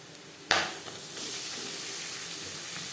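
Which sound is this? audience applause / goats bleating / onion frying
onion frying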